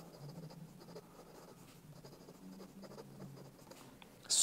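A fountain pen nib glides across paper in short strokes, a faint, close scratching with soft rhythmic pauses between words, ending in a brief louder rustle.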